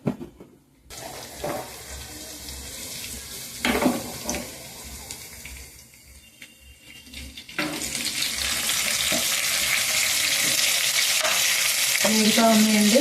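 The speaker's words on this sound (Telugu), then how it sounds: "వేగుతూ ఉన్నాయండి." A tempering for mango ginger pickle fries in a pan, sizzling quietly at first and then breaking into a loud, steady crackling hiss as more goes in, with occasional stirring scrapes.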